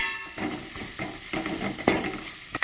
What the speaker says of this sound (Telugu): ఈ అల్లం వేసుకున్నాక ఈ అల్లం పేస్ట్ని కూడా ఈ గ్రేవీకి మొత్తం పట్టుకునేలాగా మంచిగా కలుపుకోవాలి